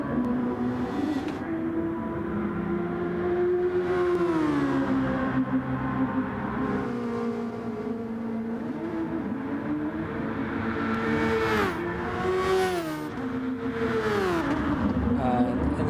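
Race car lapping Fuji International Speedway in GT Sport, its engine droning steadily and rising and falling in pitch through gear changes, with a commentator talking over it throughout.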